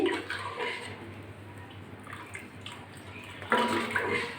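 Water pours steadily into a cooking pot being readied for Maggi noodles, a continuous splashing rush with a louder burst near the end, heard close and alone.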